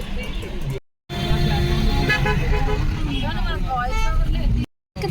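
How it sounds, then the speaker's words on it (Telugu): Car and bus horns honk repeatedly in a traffic jam on the road near the Yadagirigutta hill temple, with tonal toots layered over constant engine and traffic rumble, fairly close and loud, with a couple of abrupt dropouts. "ఇక్కడంతా ట్రాఫిక్ జామ్ అయిపోయింది."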